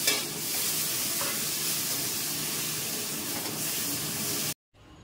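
Pointed gourd (potol) added to a frying pan with ginger paste and garam masala, a loud continuous sizzle with stirring scrapes, close, cutting off abruptly at the end.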